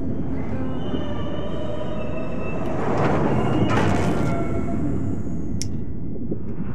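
A train rolls along in A Memoir Blue, a steady dense rumble of wheels on track with metallic squeals rising in the middle, heard alone without talk.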